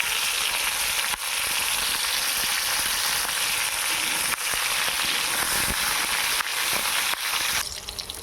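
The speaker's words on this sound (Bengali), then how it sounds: "আমার কিন্তু পটল কটা ভাজা হয়ে গেছে লাল লাল করে" Pointed gourd (potol) pieces fry in a pan with a loud, dense, continuous sizzle, punctuated by a few sharp clicks and brief dips, ending with a faint rustle; no one speaks.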